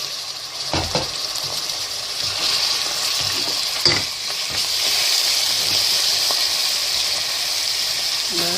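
Onion frying in oil for Nigerian meat pie filling, a loud close hissing sizzle with stirring scrapes and a few sharp knocks of the spoon against the pan.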